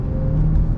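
A car passes close by on a road during a driving lesson, its engine a steady low rumble with road noise throughout, no talk over it.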